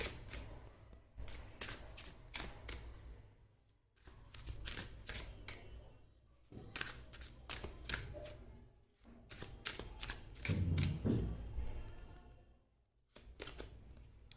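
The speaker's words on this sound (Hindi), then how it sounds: "ओके गाइज, मैं कुछ कार्ड्स और लूंगी और फिर आपको अच्छे से समझाऊंगी।" Tarot cards shuffled and drawn from a deck during a reading, giving repeated crisp riffling and flicking bursts in several clusters with short pauses, fairly close and moderate in level, with no talk.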